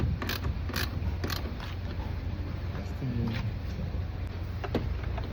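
A replacement power window motor in a Hyundai Tucson runs steadily with a continuous mechanical whir and gear drone, a few sharp clicks over it, close and fairly loud with no talk.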